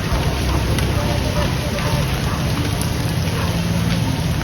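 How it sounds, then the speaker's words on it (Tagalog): Steady, dense hiss of heavy typhoon rain pouring down continuously over a flooded residential area, loud and close, with a faint voice murmuring underneath. "Walang humpay, walang hinto ang pag-ulan."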